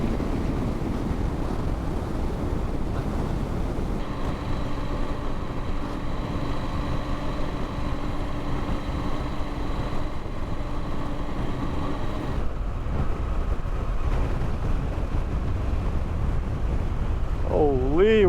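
Strong wind roars into the microphone while riding a motorcycle through Morocco, a steady heavy rush with a faint engine drone underneath and a brief whistling tone near the end.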